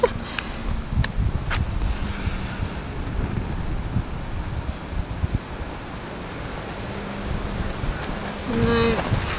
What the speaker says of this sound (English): it's so windy as well